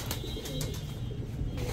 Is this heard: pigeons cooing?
yes